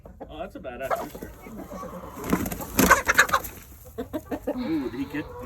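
A rooster and several hens cluck and squawk inside a hen house as the rooster is introduced to the flock, with a flurry of excited, close calls and people talking over the birds.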